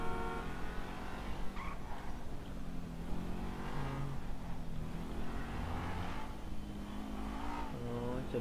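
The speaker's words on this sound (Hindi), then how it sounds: "ये गाड़ी बहुत तेज भगाएंगे रुकेंगे नहीं" A car in the game GTA 5 is driven fast, its engine roaring steadily at high revs with shifting pitch throughout and no pauses, fairly loud and alone.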